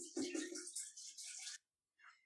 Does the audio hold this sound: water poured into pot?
yes